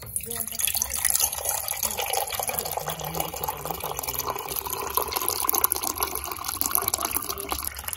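Water running from a tap into a container for medicine, a steady hissing splash that continues throughout at moderate loudness, with faint background voices beneath.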